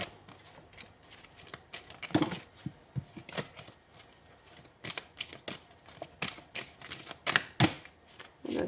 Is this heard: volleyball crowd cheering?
no